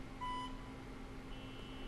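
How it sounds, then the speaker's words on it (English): A CompuSpot 800 HF spot welder gives a short, clear electronic beep once, followed by a faint, steady high tone over a low background hum. "fully depress the trigger until the second beep sounds"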